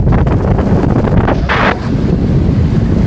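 Loud wind buffets the microphone in rumbling gusts off the El Fraile island fort, with a brief burst of brighter rushing noise midway, over a low watery background.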